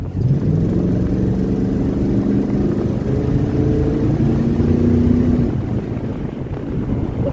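A 1967 Dodge Charger with a 383 big block V8 driving, its engine a steady low drone with shifting pitch, buffeted by wind noise; no talking.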